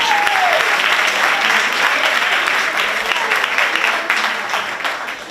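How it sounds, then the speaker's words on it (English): A pageant audience at the Miss Glamour 2019 show breaks into sustained, dense applause, loud and steady throughout, tapering slightly toward the end. "So can we give them a round of applause?"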